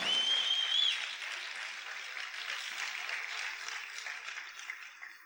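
A church congregation applauds in a broad, steady wash of clapping that carries through and fades slightly toward the end, with a faint high tone briefly at the start.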